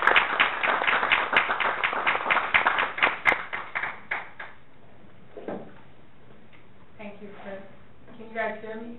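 A small crowd at a community forum claps for a few seconds, the rhythm thinning out and fading, followed by quiet and then a voice beginning to speak.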